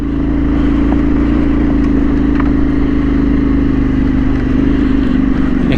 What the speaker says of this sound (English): You can see that bike spinning up, really struggling on those tyres.